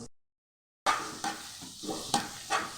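Onions with ginger-garlic paste and turmeric stirred in a frying pan, the spoon scraping in a few distinct strokes over a soft sizzle after a brief silent start, close by and without talk.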